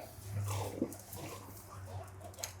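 A dog gives soft whimpering whines close by, with a brief low whine near the start and fainter nasal sounds after it, over a quiet background.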